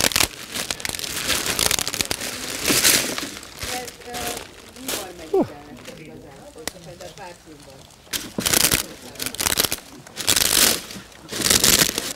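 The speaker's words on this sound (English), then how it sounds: "So sharp that when you break it, it actually cuts its own way out of the plastic bag." Sharp, brittle material snaps and crunches inside a plastic bag, with bursts of crinkling plastic and crackling breaks in uneven clusters, loud and close.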